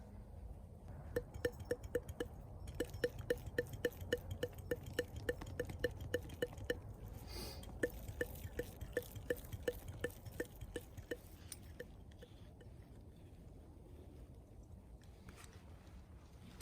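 Water from an aquarium pump hose dripping into a hole in a frozen stream, a quick, regular run of small clinking drips close by that slows and fades out near the end.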